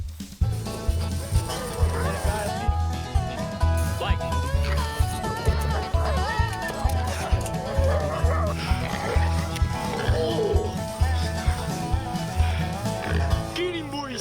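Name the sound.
hunting dogs barking while catching a feral boar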